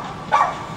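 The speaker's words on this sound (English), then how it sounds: "That dog always barks for no reason." A dog indoors near a garage gives a single short bark, brief and moderately loud against a quiet background.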